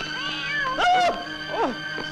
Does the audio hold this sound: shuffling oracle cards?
no